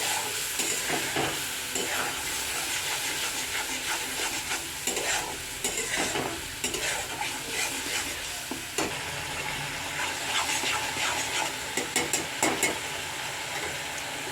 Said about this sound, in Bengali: এবারে দিয়ে দিচ্ছি আমি সামান্য পরিমাণ জল। আমি কিছুক্ষণ কষতে দেব।